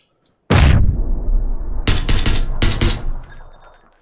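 Grenade blasts in the battle-royale game PUBG: one loud, close explosion with a long rumbling tail, then a run of sharp bursts and cracks that fade away, with no talking.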